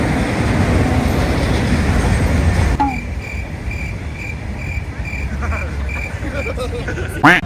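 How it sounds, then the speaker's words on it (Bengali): A freight train loaded with tea leaves rolls past a railway crossing gate in Siliguri, a loud, dense rumble for the first few seconds that drops to a softer rolling noise, with faint voices nearby. "আর দেখো রেল যাচ্ছে কত সুন্দর"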